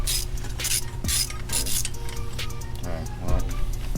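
A wrench works loose a rusty 17 mm end link bolt under a vehicle, giving rhythmic metallic ratchet clicks and clanks close up, with someone talking over the work.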